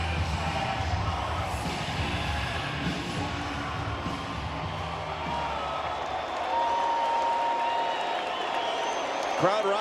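Spectators at an MLB baseball game between the Los Angeles Angels and Detroit Tigers applaud and cheer, a steady, dense roar of clapping and voices that swells slightly near the end, with an announcer talking over it.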